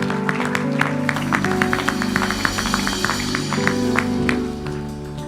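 A church congregation applauding, steady dense clapping over a sustained organ or keyboard chord for about four seconds before fading.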